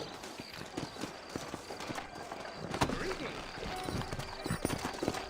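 Horse hooves clip-clopping in the Red Dead Redemption video game, a steady rhythmic trot of hoofbeats under soft ambient game sound.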